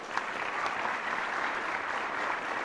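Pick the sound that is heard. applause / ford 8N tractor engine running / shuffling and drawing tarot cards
applause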